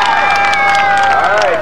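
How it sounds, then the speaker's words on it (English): A demolition derby crowd at Wall Stadium cheers in a brief, loud burst of shouting and whistling, with a public-address voice ringing over it. "How many people are cheering for the 44?"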